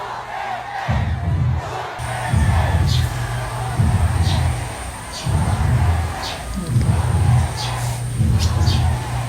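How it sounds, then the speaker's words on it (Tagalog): A large outdoor crowd at a political gathering chants Duterte's name in rhythmic unison, six loud, evenly spaced bursts with short pauses between them, like a rally cheer. "Duterte talaga sigawan ng mga tao."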